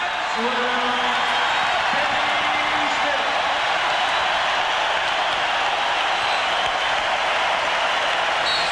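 A basketball arena crowd at the 1993 Western Conference semifinal Game 6, Sonics at Rockets, applauding Vernon Maxwell and Kenny Smith; a constant loud roar of clapping and cheers runs beneath a commentator's talk.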